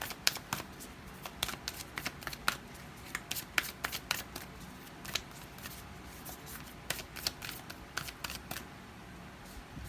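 Tarot cards are shuffled by hand in quick, irregular bursts of crisp riffling snaps, close and fairly quiet, continuing steadily with brief pauses and no talking.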